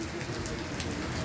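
Heavy rain pours steadily onto surfaces outside a home, a dense, continuous wash of drops with no voices, loud and even throughout.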